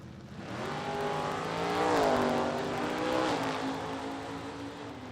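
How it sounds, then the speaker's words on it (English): Race cars speed down the racetrack at a class racers revival drag event, a loud sustained engine roar that swells and pitches up as they accelerate past, then holds steady. "Down the racetrack they go."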